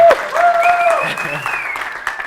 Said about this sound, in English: can we all just have a really, really big round of applause?